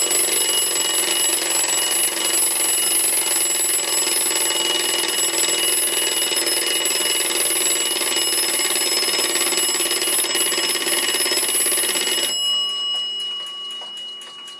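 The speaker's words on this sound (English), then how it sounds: "is definitely a loud alarm" A loud, continuous metallic alarm bell of an 1889 Seth Thomas parlor clock rings nonstop for over twelve seconds, then cuts off, leaving a faint ringing decay and soft ticking.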